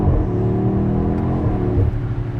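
A BMW X6M Competition revs hard through quick, instant upshifts, with a loud, continuous engine drone that rises and dips slightly with each gear change, close and steady throughout.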